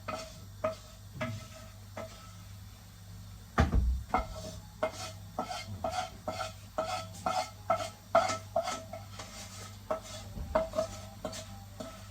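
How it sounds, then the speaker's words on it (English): Metal spoon scraping and knocking around a saucepan as thick ogbono soup is cleared out, a steady run of close, rhythmic scrapes and clinks with one louder bump partway through, no talking. "bring everything out from this saucepan"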